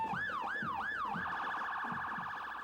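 A police car siren in a small-town Oklahoma parade wails loud and near, sweeping up and down in a rising-falling cycle several times before switching to a faster warble.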